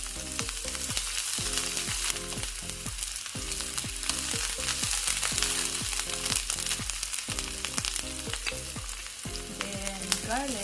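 Chopped onions frying in olive oil, a constant close sizzle with rhythmic stirring clatters against the pan, no voices.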